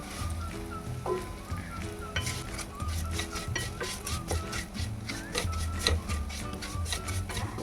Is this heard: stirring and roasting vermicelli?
yes